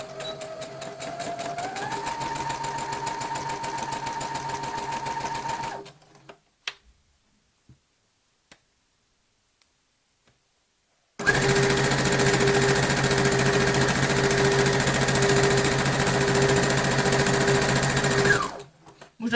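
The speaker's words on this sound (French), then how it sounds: "Donc je couds à 1 cm." A sewing machine runs a straight seam on an embroidered tote bag in two loud, steady bursts of rapid stitching, separated by a pause of a few seconds with only faint clicks.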